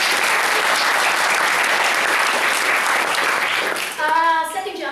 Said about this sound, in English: Give a round of applause for your